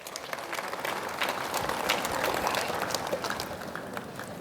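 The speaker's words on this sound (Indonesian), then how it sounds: "Mari kita memberikan aplaus yang luar biasa." Applause from a crowd at an official inauguration ceremony for regional leaders of Maluku Tengah, a dense, sustained clapping that swells slightly in the middle and carries on for several seconds.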